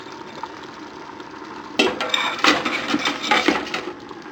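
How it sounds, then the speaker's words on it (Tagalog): Crabs drop into a cooking pot of simmering coconut-milk stew, a quiet bubbling bed broken at once by a run of close clattering knocks and splashy thuds as the shells hit metal and liquid. "Next, ilalagay na natin dito yung crabs."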